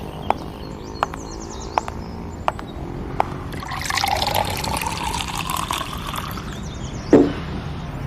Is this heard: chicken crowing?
no